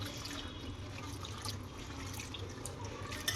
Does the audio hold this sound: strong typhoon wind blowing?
no